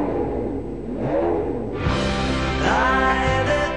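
A 2000s Ferrari 599 GTB's 6-litre, 620-hp V12 sourced from the Enzo idles with a low burble, then bursts into a loud, close rev that holds a rich, rising roar through the rest of the clip.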